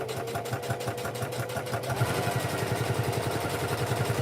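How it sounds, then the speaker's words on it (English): A sewing machine stitching paper journal pages runs in a fast, steady mechanical rhythm, close and continuous, with the motor pulsing throughout and settling into a slightly lower, heavier chatter in the second half. "If the sewing is driving you nuts, I'm sorry."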